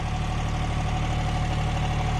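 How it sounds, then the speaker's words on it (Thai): A three-cylinder diesel engine of a Yanmar YB20 mini excavator idles steadily with a low, even rumble and faint knocking, close up and continuous with no voices. "รถขุดแบ็คโฮยันมา YB 20"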